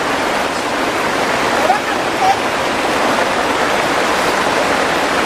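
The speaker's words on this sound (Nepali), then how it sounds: "यहाँ चाहिँ एकदम पानी परिरहेछ" Heavy rain pours down steadily near a village cattle shed in Barpak, a dense continuous hiss that stays even and loud throughout, with no talking.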